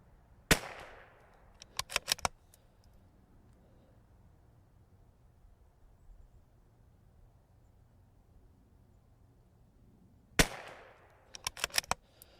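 CZ 457 .22LR precision rifle fired from a barricade, two loud bursts of sharp cracks, each a single shot followed by a quick cluster of metallic clicks, separated by a long quiet stretch.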